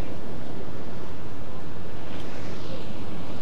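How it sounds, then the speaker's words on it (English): Big waves crash and surge against a lighthouse wall on a windy coast, a continuous broadband roar of surf and spray with wind buffeting the microphone throughout. "There are big waves crashing up all around me"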